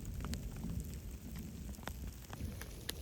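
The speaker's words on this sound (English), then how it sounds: "It's raining like slush puppy kind of consistency." Slushy rain falling during a thunderstorm on a mountain trail, a faint steady patter with scattered distinct drops tapping nearby over a low rumbling background.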